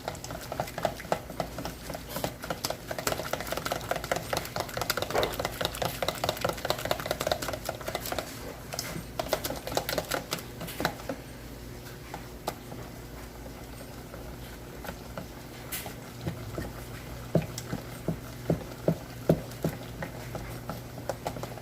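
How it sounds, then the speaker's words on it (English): Banana cream cheese French toast mixture whisked by hand in a bowl, giving a steady, rapid patter of clicking and tapping strokes up close, easing slightly toward the end with a few sharper taps. "I'm going to switch now to my whisk"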